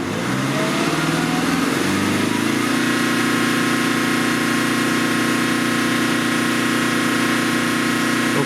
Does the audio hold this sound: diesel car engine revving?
yes